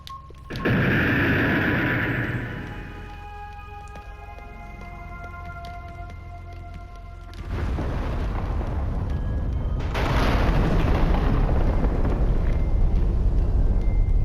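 An in-game bomb in a video game goes off in a big roaring blast that swells, fades into a long rumbling tail, then flares up again in a second loud burst.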